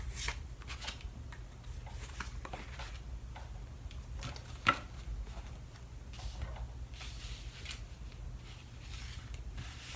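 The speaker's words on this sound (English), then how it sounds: "I'm going to draw 3 cards" Tarot cards are shuffled and drawn by hand in a quiet room, giving soft, repeated rustling and slapping bursts over a low background hum.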